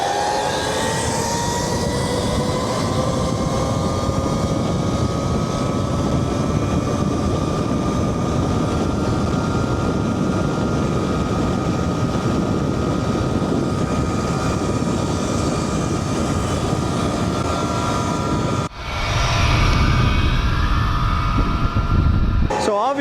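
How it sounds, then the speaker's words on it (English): Electric dirt bikes, an ETM RTR and a Talaria XXX, drag race with a steady rising motor whine and wind rush, then an abrupt shift to a louder, rougher rumble near the end. "So obviously the Talaria is going to accelerate faster than this RTR because that puts out 16 kilowatts, which is twice as much power."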